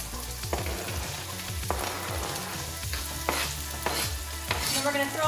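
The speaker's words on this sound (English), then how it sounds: "I'm gonna saute my onion and garlic. Pan is nice and hot" Chopped onion and garlic sizzle steadily in a hot pan, with a spoon stirring and scraping in repeated strokes every second or so, close and moderately loud, no voices.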